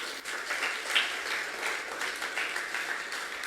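A church congregation claps steadily at a sermon in a soft, dense patter of many hands that holds evenly throughout at moderate distance.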